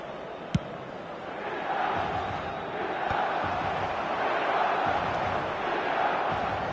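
Football stadium crowd in a PS4 soccer video game, a sustained roar of massed fans that swells after a sharp thump near the start and then stays loud and steady, with a few faint knocks underneath.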